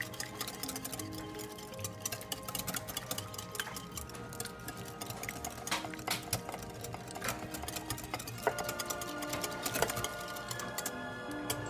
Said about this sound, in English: So let's just get this whisked up a little bit more.